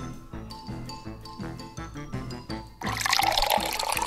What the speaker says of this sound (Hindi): उसमें पानी निकालो